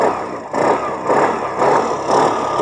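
A 2025 Suzuki Access 125 scooter's engine is throttled in short repeated bursts, four loud rising revs, each falling back between blips, heard up close.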